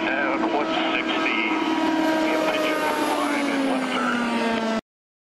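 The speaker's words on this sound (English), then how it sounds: "World's fastest helicopter." A Sikorsky X2 experimental high-speed helicopter flies past, a loud continuous rotor and engine drone with steady tonal hum that slowly drops in pitch, ending abruptly.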